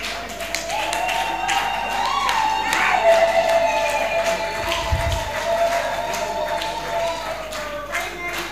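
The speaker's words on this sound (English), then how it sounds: "Your clappings are not enough." Scattered clapping from an audience at a university convocation continues throughout while voices and a sustained vocal tone carry over it, with a brief low thump midway.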